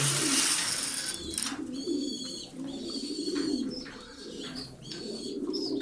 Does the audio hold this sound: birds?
yes